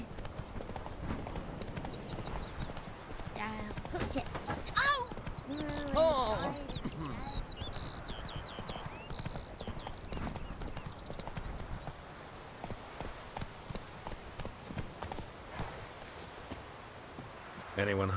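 Roach, a horse in The Witcher 3: Wild Hunt, trots along with steady, rhythmic hoof clip-clops and an occasional snort or whinny, mixed with game ambience and a voice speaking.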